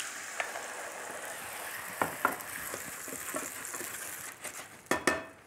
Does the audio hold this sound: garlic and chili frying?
yes